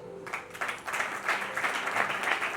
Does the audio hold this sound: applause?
yes